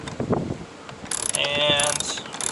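A socket wrench ratchets in quick clicking bursts while an air box is removed from a C7 Corvette Grand Sport, loud and close with brief pauses between strokes.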